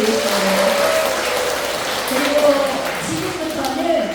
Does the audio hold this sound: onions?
no